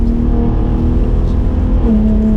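A 2021 Ford F-150 Raptor Gen 3 truck drives along a dirt road, its engine a steady, loud low drone heard from inside the cab with a slight shift in pitch near the end.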